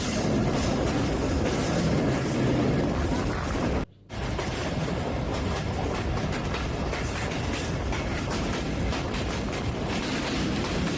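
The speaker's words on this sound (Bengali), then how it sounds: "নাভারন রেল স্টেশনে পৌঁছাবে এই বেতনা লোকাল এক্সপ্রেস ট্রেন" A Betna local express train clatters loudly and continuously over the rails through green countryside near Navaran railway station, with a steady rumble of wheels and a brief dropout midway.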